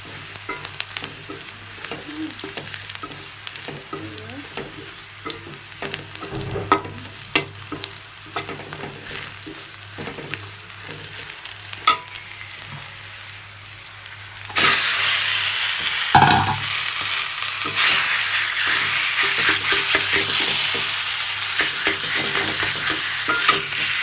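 Chili peppers frying in a pan with five-spice tempering, a steady sizzle with occasional stirring scrapes that grows suddenly louder and brighter partway through as they hit the hot oil.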